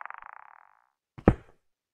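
Placing a lodestone block in Minecraft 1.16 gives a quick rattling, ball-like flicking sound that fades out, followed after a short pause by a brief dull thud, with no talk.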